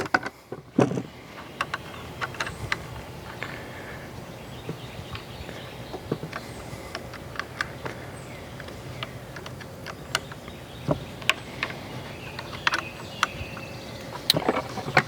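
Small screws are snugged up by hand on a Porter Cable FR350A framing nailer, giving faint, scattered clicks and light metallic ticks over a quiet background.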